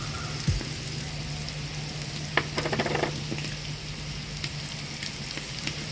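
Beef fries with curry chillies and salt in a pan, a steady close crackling sizzle with a faint hum underneath and a short burst of louder popping midway.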